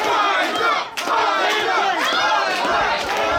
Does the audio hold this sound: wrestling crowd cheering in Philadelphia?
yes